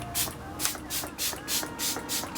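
Facial mist is sprayed onto a face from a pump bottle in about eight quick, close bursts, each a short airy hiss, coming in a fairly even rhythm.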